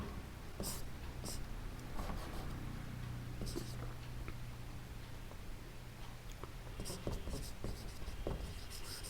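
Chalk or marker writing on a board during a geometry lesson on angles, scratchy strokes in short irregular bursts over steady room noise, with soft murmured speech beneath.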